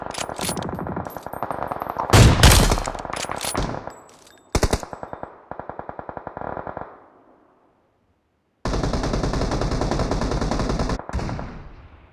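Video game gunfire rattles out in rapid automatic bursts, loud and close, broken by short single shots and a stretch of near silence before a long sustained volley resumes.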